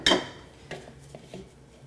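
Choux pastry dough being vigorously mixed in a bowl: a sharp utensil clink against the bowl opens, followed by a few softer knocks and scrapes, close and without talk.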